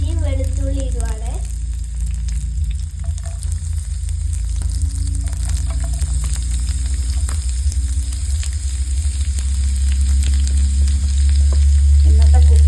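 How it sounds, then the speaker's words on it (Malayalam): Curry leaves, ginger and garlic sizzle loudly in hot oil for Areekoon masala, a steady close frying hiss with a spluttering burst at the start, stirring clatter, and a voice talking briefly at the edges. "നമ്മൾ ഇച്ചിരി കരിവേപ്പില ഇടുവാണ്. ഇഞ്ചിയും വെളുത്തുള്ളി ഇടുവാണ്."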